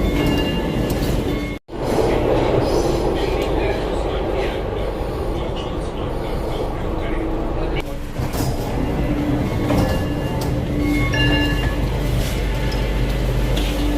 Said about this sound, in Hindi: अपनी मेट्रो आ चुकी है, तो चलते हैं हम नई दिल्ली स्टेशन।